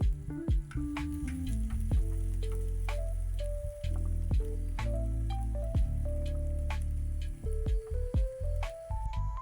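Chopped onion goes into a pan of frying garlic, sizzling steadily with crackles and stirring clicks under continuous background music, with no one speaking.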